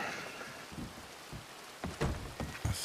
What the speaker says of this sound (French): ça serait bien que ça arrête un peu de pleuvoir.